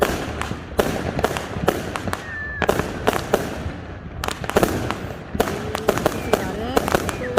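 Fireworks at a Fourth of July Independence Day celebration, a string of sharp loud bangs and crackles at irregular intervals with a few whistling streaks, while people talk in the background.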